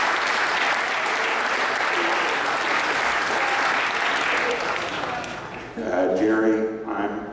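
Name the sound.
audience applause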